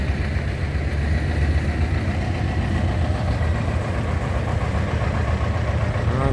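A red tractor engine idling with a steady, low mechanical chug, close and continuous, no talking over it.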